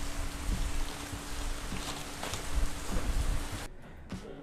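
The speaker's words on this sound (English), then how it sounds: "Holy moly, lots of rain." Heavy rain pours steadily outdoors beside a barbecue smoker while ribs cook, a dense loud hiss with occasional low rumbles that cuts off abruptly near the end.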